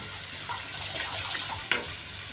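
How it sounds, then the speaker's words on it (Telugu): Water splashes as it is poured into a cooking pan of frying bread upma, a soft, brief pour with light sloshing, fairly quiet and with no voices. "కొంచెం వాటర్ యాడ్ చేసుకోవాలి."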